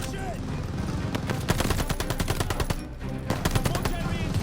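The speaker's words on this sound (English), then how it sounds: "Need to deal with that MG!" An enemy machine gun in Call of Duty Vanguard fires in long, rapid bursts, loud and close, with a brief pause partway through. Shouted voices come in under the gunfire.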